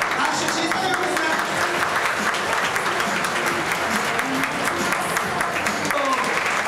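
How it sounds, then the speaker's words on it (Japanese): Sustained applause from a large crowd at a Japanese university beauty contest, steady and full throughout, with voices faintly mixed in beneath the clapping. "拍手審査員です"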